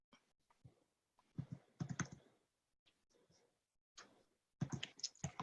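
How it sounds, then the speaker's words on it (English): Someone types on a computer keyboard during an online group presentation, with clustered bursts of soft key clicks, faint and somewhat distant, separated by short pauses. "I hear somebody typing."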